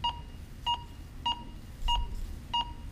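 A Minelab Go Find 20 metal detector sounds a high target tone over a buried find: five short, clean, evenly spaced beeps, loud and close, with no talking.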